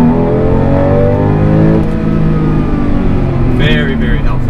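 A Porsche 911 Cabriolet with 315 horsepower accelerating hard, its engine note climbing in loud, close harmonic tones, with a voice talking briefly over it toward the end.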